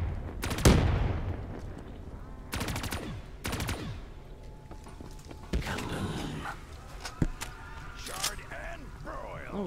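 Grenades go off in the zombies mode of the video game Black Ops III, several sharp booming blasts in separate bursts. Softer rattling and clattering game noise fills the gaps between them.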